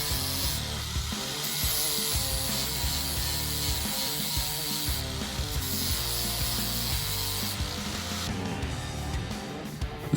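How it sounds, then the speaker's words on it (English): A grinder works steadily and loudly on the rivet heads of a Ford Model A door brace, a continuous harsh abrasive rasp with no break and no talk. "Using a grinder, we began flattening the heads of the 2 lower rivets."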